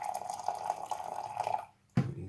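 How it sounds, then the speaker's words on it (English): Hot water pours from a kettle into a jug in a steady, fairly quiet trickle that stops abruptly, followed by a brief clunk. "we're going to take our kettle with hot water, and we're going to fill up 1/4 of a pint, or 150 mils"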